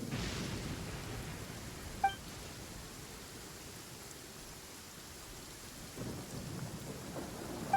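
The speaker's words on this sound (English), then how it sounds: "Ah, so the thunder we heard was you!" Thunder and steady rain in Genshin Impact, a constant hiss of rainfall with low rumbling rolls swelling at the start and again near the end, no voices present.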